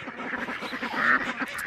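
Ducks quack repeatedly in quick, overlapping calls close by in a morning farmyard enclosure.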